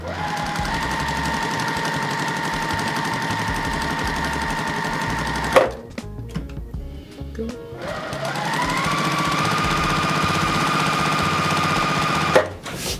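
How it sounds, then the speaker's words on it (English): A sewing machine runs steadily while stitching a quarter-inch seam on quilt fabric for a diamond prism block, pausing briefly midway before resuming its continuous, close, even whir. "you're gonna sew a 1/4 inch seam on both sides of the line and then cut it in half"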